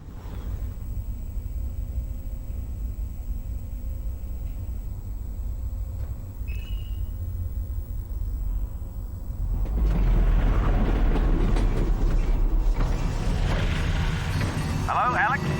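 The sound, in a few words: train riding on rails in the video game Half-Life Alyx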